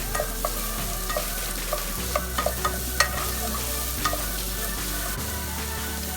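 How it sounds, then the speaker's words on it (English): Chopped shallots and minced garlic sizzle in olive oil while a utensil stirs them, a steady crackling fry broken by regular clicks and taps against the pan. "Then we're going to add our chopped shallots and our fresh minced garlic and stir until they're brown"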